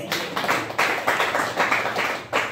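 A church congregation claps for the Lord during a Swahili sermon, steady rhythmic clapping from many hands filling the room with repeated bursts, with no talk over it.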